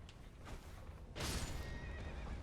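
A horse in a video game lets out a whinny around the middle, with faint hoof clops and game ambience before and after, quiet overall and with no voices.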